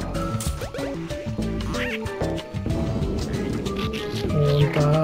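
A cartoon duck quacks repeatedly in the puzzle game Where's My Water 2, over busy game music and sound effects.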